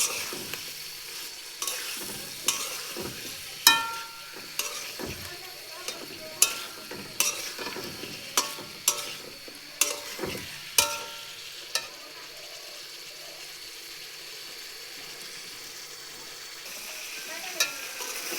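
Chicken pieces being sautéed down in a pan, kosha style, as a spoon stirs and scrapes through them, giving repeated sharp clinks over a steady close sizzle and frying hiss with no talking.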